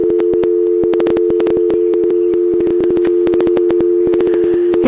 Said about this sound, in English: Listen, you can do the dial tone now.